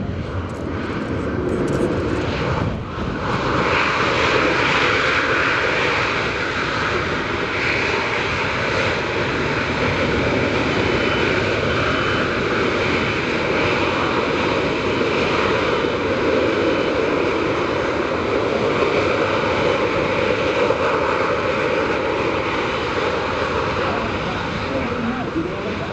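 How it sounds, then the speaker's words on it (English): A C-17 Globemaster at an air show with thrust reversers deployed roars in a loud, continuous, broadband jet rush that holds steady throughout, with a voice talking faintly over the din. "These reversers are unique to this aircraft where they deflect the air forward and up"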